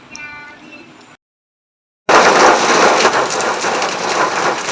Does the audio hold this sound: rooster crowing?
no